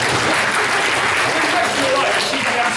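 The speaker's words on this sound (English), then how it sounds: "Give a round of applause" Audience at a live science show giving a round of applause, a dense, loud, continuous burst of clapping filling the whole moment.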